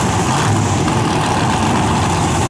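A turbocharged inline-six drag race car at a leaf-spring qualifying event, its engine giving a loud, steady, dense roar throughout that cuts off abruptly at the very end.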